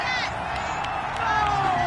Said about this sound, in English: this crowd does not like that call